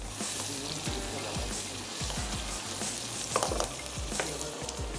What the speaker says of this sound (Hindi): तो पहले मैं अदरक और लहसुन का पेस्ट इसमें ऐड कर देती हूँ।